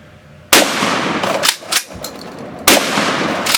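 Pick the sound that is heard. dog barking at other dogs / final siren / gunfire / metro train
gunfire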